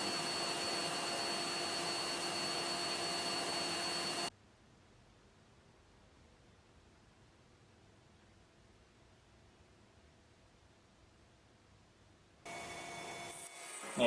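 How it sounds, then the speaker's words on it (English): Router fitted with a 90-degree V-groove bit cutting an arris into walnut tongue-and-groove panelling, a loud steady whining roar that runs alone for about four seconds, stops for a long quiet gap, then starts again near the end. "I use a 90-degree router bit to add the arris, or the V part of the TG&V"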